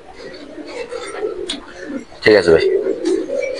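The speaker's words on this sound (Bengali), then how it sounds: "খুব সুন্দর কবুতর" Caged pigeons at a pigeon farm coo in low, throaty bursts, one loud rolling coo standing out, while men chat nearby.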